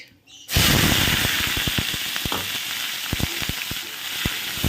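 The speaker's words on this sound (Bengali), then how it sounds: "পেঁয়াজ পালটাকে ভালো করে ভাজা ভাজা করো" Onions, potatoes and green chilies fry in a pan with a loud, steady sizzle that bursts in after a brief quiet moment, dotted with sharp scraping clicks from stirring.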